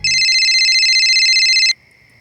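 A phone rings with an incoming call, a loud, steady electronic ringing tone with a rapid pulsing warble that holds for nearly two seconds and then cuts off, leaving a faint residual tone.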